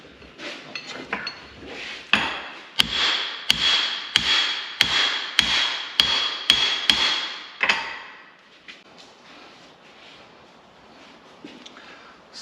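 Hammer blows on metal while working on a Dana 60 axle and a cross-drilled 300M steel U-joint: about ten sharp, loud, evenly spaced ringing strikes close by, then quieter clinks and small taps.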